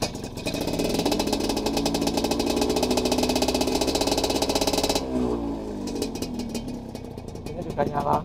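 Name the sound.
motorcycle engine idling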